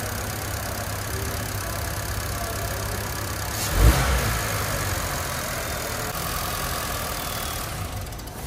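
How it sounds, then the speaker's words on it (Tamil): A 2025 Honda Amaze sits idling smoothly, a steady low engine hum with no talk, broken by one brief soft thump midway before the even drone resumes. "நாய்ஸ் எதுவும் இல்லாம என்ஜின் ஸ்மூத்தா ரன் ஆகிறத நம்ம இங்க அப்சர்வ் பண்ண முடியும்."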